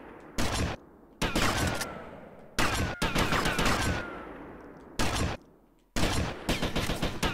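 Bursts of gunfire in GTA Vice City: loud, dense volleys of rapid shots come in several separate clusters with short quiet gaps between them, and no talking over them.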